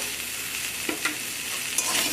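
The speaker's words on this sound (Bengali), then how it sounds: "আদাটা দেওয়ার পর এখানে ভালো করে সব কিছুকে নাড়াচাড়া করে নিচ্ছি" Lightly fried vegetables and ginger being stirred in a pan, a soft continuous sizzle with a few faint scrapes and knocks of the spoon, alone and fairly quiet.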